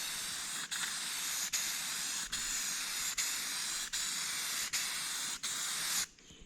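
Spray-can paint hisses in a steady stream as a quick coat goes onto a vehicle hood, with brief regular pauses between passes and a final stop near the end, close and moderately quiet, no talking.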